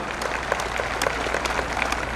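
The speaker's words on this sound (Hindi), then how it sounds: "एक बार मंच पर आसीन हो तो जोरदार तालियां श्री मोहनलाल जी बड़ोडाल के लिए।" Applause greets a guest taking the stage at an award ceremony: a crowd claps steadily at mid distance, sharp individual claps standing out over the dense patter, with no talk heard.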